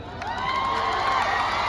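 A festival crowd cheers and whoops in a continuous roar, with high children's shouts rising above the mass of voices, brief but loud and sustained.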